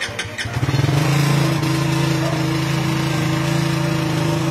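A Raider 150 Fi motorcycle engine cold-starts with a brief cranking sputter, then settles into a steady, loud, close idle with no talking.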